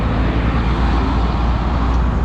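Dense, steady road noise in a traffic jam heard while riding a Honda Dio 110 scooter, a loud continuous rumble of engines and wind with no pauses.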